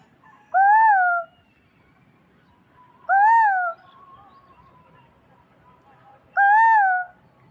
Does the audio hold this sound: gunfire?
no